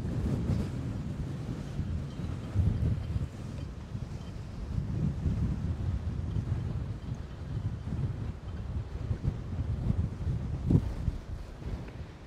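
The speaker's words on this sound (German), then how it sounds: "Doch, ist ja doch ein bisschen windig." Strong gusting wind by the water as a hurricane approaches, buffeting the microphone with heavy low roaring bursts that swell and fade around boats moored nearby.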